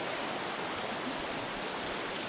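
Stream water flows steadily in a rural barangay in the province, a constant broad rushing wash with no breaks, close and loud, without talk.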